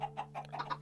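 Short Minecraft chicken clucks, several quick clipped bursts in a row, close and fairly loud over a steady low game hum.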